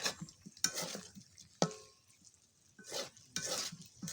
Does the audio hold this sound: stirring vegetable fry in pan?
yes